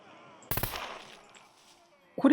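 A VSS rifle fires a rapid automatic burst at zombies in the survival game SCUM, loud and close, fading into a quiet tail before another sharp sound cuts in at the end.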